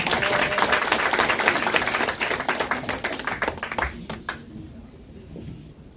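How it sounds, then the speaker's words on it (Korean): An audience at a political party press conference claps to welcome a speaker, a lively burst of hand clapping that thins out into a few scattered final claps. "큰 박수로 청해드리겠습니다"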